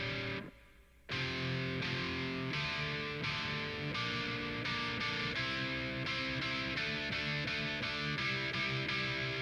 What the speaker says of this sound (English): And then with Amplitube for the backing chords, it sounds like this with these specific settings.